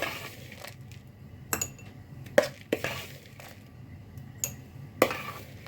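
Blackcurrant topping is spooned into no-bake cheesecake pots on a kitchen bench, with a handful of sharp spoon-on-glass clinks spaced irregularly over a quiet background.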